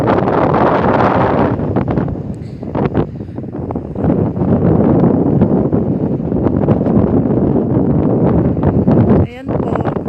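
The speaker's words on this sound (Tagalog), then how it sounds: "Malakas ang hangin." Strong seaside wind blows hard into the microphone at a shore, a loud, roaring buffet that surges and dips, with a brief lull partway through and occasional faint voices in the background.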